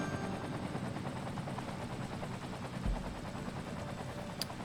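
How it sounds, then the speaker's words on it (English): Fire helicopters in the city-building game Cities Skylines, a continuous rotor drone with rapid chopping texture, steady and fairly faint, with a brief low thump near the middle and no talk. "So the fire helicopters will pick up water and then they come over and they drop water down."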